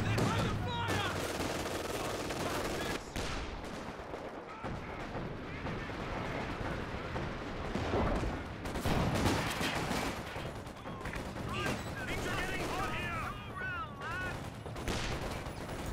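Machine gun fire and artillery in a Company of Heroes 2 battle, with bursts of automatic fire and heavy booms layered over a dense, continuous game soundtrack with loud explosions throughout.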